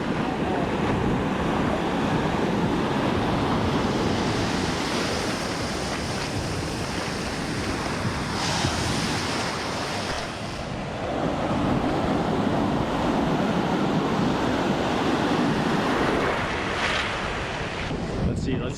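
Ocean surf rolls onto Tamarindo beach in Costa Rica, a gentle beginner surfing spot. Waves break and wash in a continuous loud roar, with wind buffeting the microphone and a few surges swelling and fading. No one speaks.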